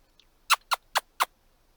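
Crows give four sharp, evenly spaced caws in quick succession, loud and close against near silence.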